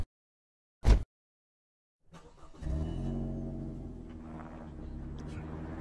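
A car's engine starts up and settles into a steady, low idle after being repaired, following a brief thump and a stretch of near silence.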